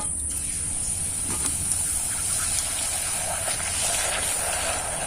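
Fuchka puris drop into very hot oil and fry with a constant, loud hiss and sizzle, close by and steady throughout, with no talking over it.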